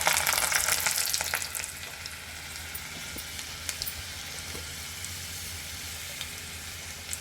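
Garlic sizzles in hot tempering oil for Telugu-style toor dal rasam, a dense crackling fry that bursts loudly at first, then settles into a steadier sizzle with scattered pops, with no talking.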